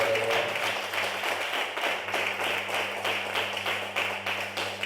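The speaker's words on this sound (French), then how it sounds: "Est-ce que tu peux donner une ovation d'acclamation?" Steady applause from a church congregation, dense clapping that holds at an even level throughout, with a low hum underneath.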